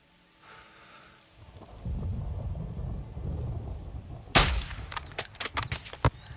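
A single sharp sniper rifle shot in Call of Duty: Modern Warfare 2 cracks out loudly over a low rumbling ambience, followed by several quieter clicks and thuds.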